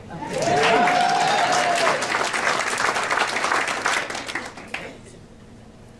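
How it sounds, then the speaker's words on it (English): A school board meeting audience breaks into a loud, sustained round of applause and cheering that swells early, then thins and fades out near the end. A single voice rises briefly above the clapping at the start. "And I need a big cheer too."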